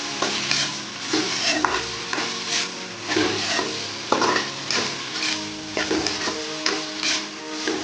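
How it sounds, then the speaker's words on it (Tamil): Tomatoes sauté in a pan with rock salt, sizzling steadily while a utensil stirs and scrapes against the pan in repeated close, clattering strokes. "நல்லா வதக்கி விட்டுக்கணும்."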